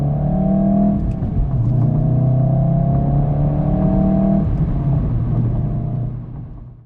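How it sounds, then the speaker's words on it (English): A VW Golf R MK7.5 works through the gears of its six-speed manual, its engine rising in pitch several times with brief dips at each shift, loud and close, then fading away at the end. "just rowing through the gears in this car, the sounds it makes, such a fun experience"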